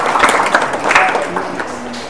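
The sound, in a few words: audience clapping loudly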